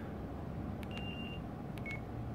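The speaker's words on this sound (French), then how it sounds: "Batterie bip. Keypad bip." A Sagem My X-6 mobile phone gives a few faint, short electronic keypad beeps, two separate tones a moment apart over a quiet room hum.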